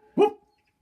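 A cartoon dog character, Danny Dog from a Peppa Pig story, gives a single short bark, clear and close, then silence.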